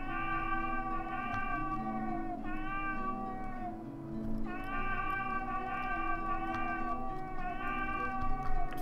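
A small cat in the video game Blades of Heaven meows again and again in long, whining calls over a constant game background, close and prominent throughout.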